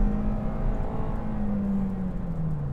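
A 2025 Toyota Corolla FX Sedan accelerates hard with its wheels spinning: a loud, steady engine drone and whirring tone that slowly sinks in pitch over a constant road rumble.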